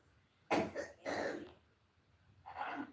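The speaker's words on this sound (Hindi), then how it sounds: "देखिए मेरी माँ कैसे खांस रही है" An older woman coughs three times in separate bursts, the first two close together, then a pause before a softer final cough, heard close by in a quiet room.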